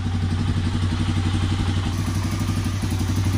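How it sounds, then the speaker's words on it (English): The engine of a 1985 Honda Big Red runs at idle after a tune-up, a loud close steady thumping putter with a rapid even beat and a light mechanical clatter on top, with no voices. "motor sounds pretty good."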